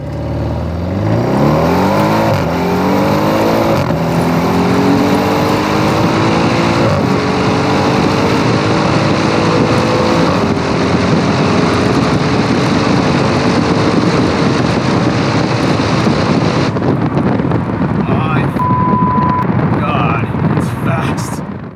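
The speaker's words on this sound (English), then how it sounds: "the best sounding stock exhaust in a four-door car" A stock exhaust on a four-door car roars hard from a dead stop in full auto, pitch climbing through several gear changes, loud and continuous with wind rush throughout.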